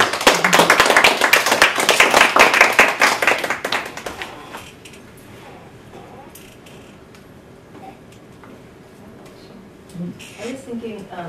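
Audience applause at the close of a university research talk, a loud dense burst of clapping for about four seconds that then fades into quieter room noise and talk.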